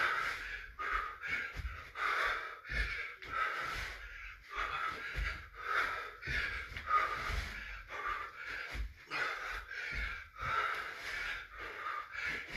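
Someone breathes hard and raggedly during a HIIT workout, rapid loud gasping inhales and exhales repeating close to the microphone with occasional shuffling.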